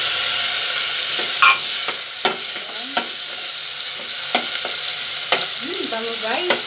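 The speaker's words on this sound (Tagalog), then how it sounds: "Ginigisa mo pa lang yung bawang, sibuyas, kamatis, ang bango na" Garlic, onion and tomato sauté in a hot pan with a loud, constant sizzle, punctuated by occasional scrapes and clinks of a stirring utensil and faint voices in the background.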